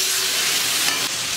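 Water splashed into a hot pan for chicken tadka sizzles and hisses loudly and steadily, a close, continuous frying crackle with a brief surge partway through.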